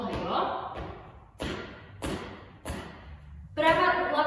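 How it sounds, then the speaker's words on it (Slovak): Feet stomping on the floor during a dance tutorial move, several dull thuds at an uneven beat, close by, with a voice talking over them. "A ta pravá sa ti buchne do zeme."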